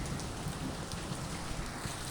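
Rain falls in a heavy monsoon downpour near a house, a dense steady hiss and patter that fills the whole stretch evenly with no voices.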